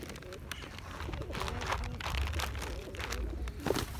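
Pigeons and crows feed on sunflower seeds outdoors, with soft pigeon coos, pattering steps and flutters close by, while people talk quietly in the background.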